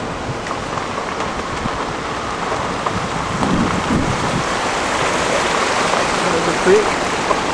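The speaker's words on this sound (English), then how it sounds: "There's a creek." A flowing creek beside a road, a broad steady rush of water that swells slightly partway through, heard with some outdoor rumble and no clear talk.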